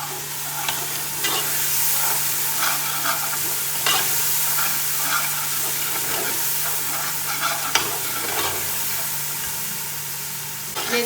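Turmeric, coriander and cumin fry in hot oil for daal mash, a close, steady sizzle with soft scraping stirs throughout and no talking.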